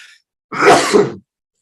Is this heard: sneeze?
yes